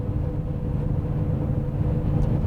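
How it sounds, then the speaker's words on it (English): A steady low growling rumble from worn front wheel bearings on a high-mileage Honda Odyssey heard from inside while driving, continuous and moderately loud with no talk. "there is a growling noise coming from the front end of the vehicle."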